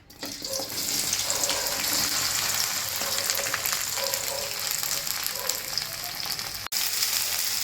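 Cut okra sizzles in hot oil in a pan, a loud, steady, close frying hiss that runs unbroken throughout, with no talk.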